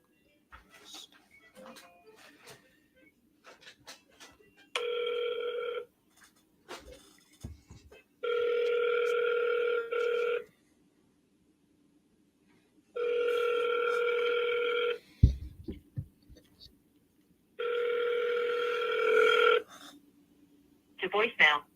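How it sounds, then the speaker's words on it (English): Telephone ringback tones on an outgoing phone call, four long buzzing rings separated by pauses, with faint keyboard and desk noises and brief soft speech between them. "Let's call this agent."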